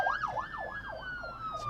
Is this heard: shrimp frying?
no